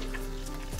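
Butter simmering in a pan as it turns into ghee, giving a steady soft sizzle and crackle throughout, fairly close and even in level, with a faint low hum beneath.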